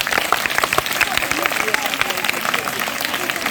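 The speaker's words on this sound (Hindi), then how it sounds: "दोनों बच्चों के लिए जोरदार ताली हो जाए।" Loud, sustained applause from a school audience at a magic show, clapping steadily for two children brought up to help, with crowd noise mixed in throughout.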